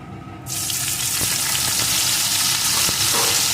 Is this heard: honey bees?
no